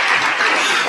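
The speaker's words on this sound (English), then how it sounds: "you're supposed to applaud that" Audience applause fills the room at a public health talk, dense steady clapping from many hands, loud and close throughout with no talk over it.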